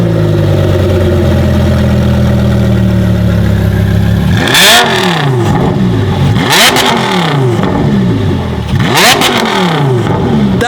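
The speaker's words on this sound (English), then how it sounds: "Start the damn car up." Supercharged supercar engine turning over and catching, then a steady idle broken by three sharp, loud revs that climb and fall back, close by and alone without talk.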